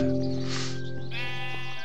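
Sheep in the Minecraft video game bleating, a clear synthetic baa that wavers and then shifts to a higher, brighter second bleat, heard close and alone.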